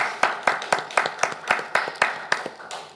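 Rhythmic unison clapping from a church congregation at a healing service, about a dozen sharp, evenly spaced claps, moderately loud and close, with no voices.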